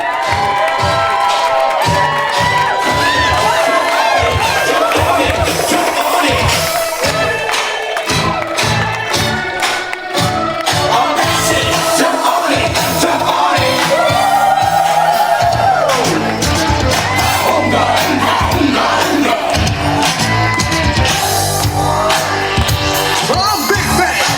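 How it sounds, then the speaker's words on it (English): A bar mitzvah party crowd cheers and shouts loudly over music, a dense, continuous roar of voices with whoops and yells that holds at high volume throughout. "we want you to clap, cheer and make a whole lot of noise for your host this evening"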